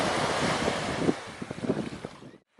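Sea waves break and wash on an Isle of Man shore with steady wind rumble, a continuous close surf roar that cuts out abruptly near the end.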